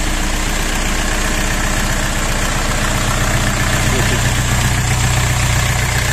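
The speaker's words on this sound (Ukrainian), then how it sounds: "Чуєте, як гарно працює двигун." A mini tractor engine idles loudly and steadily up close, a constant chugging rumble with a faint mechanical whine from the pump and no break.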